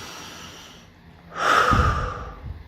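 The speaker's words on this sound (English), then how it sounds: "Take some deep breaths in" A single deep inhalation drawn in through the nose, close and fairly loud, swelling over about a second and then easing off, with quiet room hush around it.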